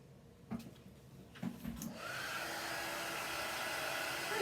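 A hair dryer starts up after a few handling knocks and blows steadily, drying a damp paint transfer of a pumpkin on a handmade porch sign.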